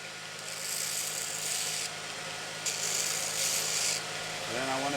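Steady rasping and grinding runs as contours are cut into a handmade Scandi knife at a knife-making class, a continuous near sound with brief pauses in the hiss.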